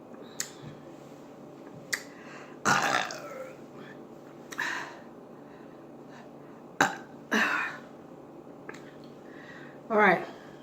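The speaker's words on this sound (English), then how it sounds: "Who can beat me? 12 burps." A man burps repeatedly after eating a four-meat burger, a series of loud, close belches of varied length spaced a second or two apart, mixed with sharp clicks and mouth sounds.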